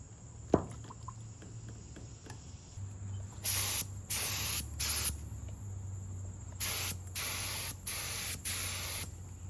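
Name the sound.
spray gun spraying Cerakote coating on exhaust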